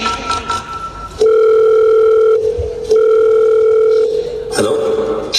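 Telephone dial tone heard as a woman rings her son: a loud, steady tone holds for about a second, breaks briefly, then returns and runs on before cutting off, with faint room noise at the edges.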